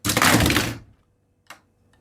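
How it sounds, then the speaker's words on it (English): A LEGO One Piece Arlong Park set's action feature flips down with a single loud plastic clatter as it knocks pieces over, followed by a brief small click after a pause. "to activate the main feature, you just flip the top down there, get Luffy ready, and destroy"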